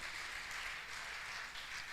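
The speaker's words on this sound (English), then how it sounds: "Another round of applause for our living legend" A lecture audience gives sustained applause for a retired professor, a faint, even, hissing wash of many hands clapping at a distance, with no single claps standing out.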